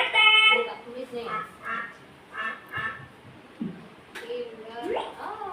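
Voices imitate a duck quacking, giving a string of short, nasal calls in a preschool classroom, with other voices talking around them.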